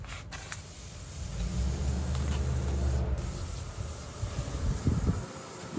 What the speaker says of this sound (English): Got some brake cleaner here.